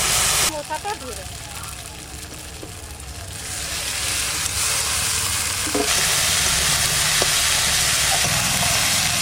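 Banana flower fries in a pan with cumin and garam masala, the sizzle swelling into a loud, steady hiss once it hits the hot oil, with a few clatters from stirring.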